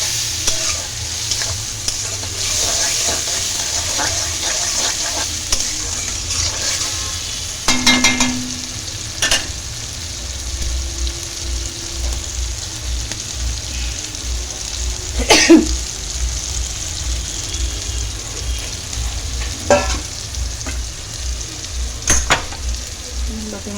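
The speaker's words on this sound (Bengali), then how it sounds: "মশলাটা অনেকক্ষণ কষিয়ে নেবো" Masala spice paste with ginger is stir-fried in a pan, giving a continuous close sizzle with scraping stirs. A few coughs and throat-clearing sounds break in over it.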